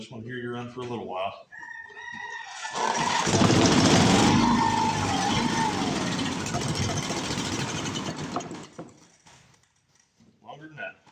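A 7 hp Briggs and Stratton engine, left sitting in a shed for 15 years, sputters and runs for several seconds, buzzing unevenly as it runs out of fuel, with someone talking briefly before and after it dies down.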